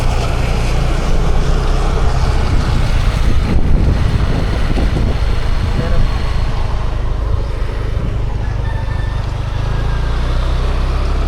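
Heavy rain pours steadily onto a DJI Osmo Action 5 Pro camera during an outdoor durability test, a dense broadband wash with wind buffeting the microphone, loud and close throughout.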